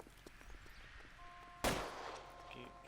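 A single sharp gunshot from a first-person shooter video game rings out mid-clip over a low steady game background, followed by a brief decaying tail.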